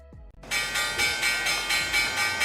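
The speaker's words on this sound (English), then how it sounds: "Apparently that's the actual bell." A bell sound effect set as a hotkey alert during a live Nasdaq futures trading stream. It bursts in as a rapid, loud, evenly repeated ringing, pulsing several times a second with no talk.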